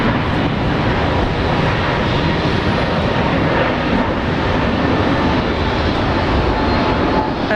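A Jetstar airliner roars steadily with broadband jet noise as it departs, loud and sustained throughout with no voices.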